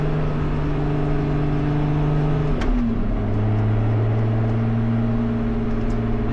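A Lotus Exige V6 350 drives along a road, its engine a loud steady hum that briefly shifts in pitch as it changes gear, then settles into a lower drone with no talk.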